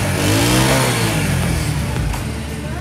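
A freshly tuned Honda CD 70 motorcycle engine revs up loudly close by, rising and then settling into a rough, throbbing idle.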